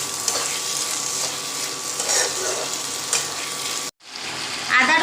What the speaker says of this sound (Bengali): এরপর ভালো করে পেঁয়াজ আর টমেটোর সাথে কষাতে হবে।